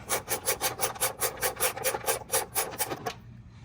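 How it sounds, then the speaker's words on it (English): A tight bolt being worked loose with a 12 millimeter socket during a DRL installation, a rapid, rhythmic ratcheting rasp that repeats evenly and stops abruptly at the end. "I'm going to swap over to our 12 millimeter. And we're going to get this one bolt out. It's pretty tight."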